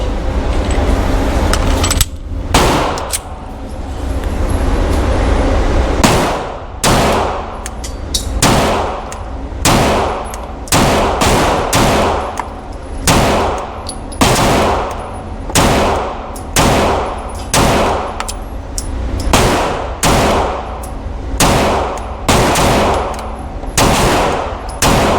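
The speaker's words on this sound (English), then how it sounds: "Let's do some shooting." A Canik MC9 Prime 9mm pistol firing Blazer Brass ammunition outdoors, delivering a long series of loud, sharp shots, some in quick pairs and others spaced out, with brief pauses and faint clinks between strings.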